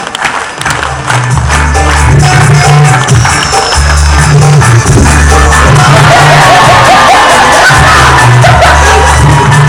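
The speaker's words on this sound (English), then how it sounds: "And I want you to slowly start clapping. If I get through, I want a really big cheer, yeah?" A live audience claps and cheers loudly and continuously, a dense wash of applause and whoops over a steady low rumble.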